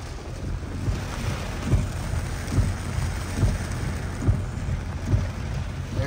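Rain falls on a street in Panama City Beach, Florida, as a steady, even hiss with soft low thuds recurring about every second, and no voices.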